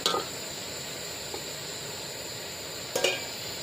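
Rat meat stir-frying with holy basil in a pan gives a soft, continuous sizzle, broken by a few brief clinks or scrapes against the pan near the start and end.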